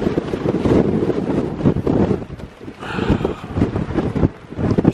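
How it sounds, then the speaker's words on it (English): A gale roars across a wild campsite on Waun Fach in the Black Mountains, Brecon Beacons, buffeting the microphone and a tent in a loud, continuous rush that surges and eases without pause. "It's blowing a bloody gale up here."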